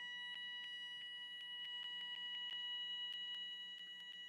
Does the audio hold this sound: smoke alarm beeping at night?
yes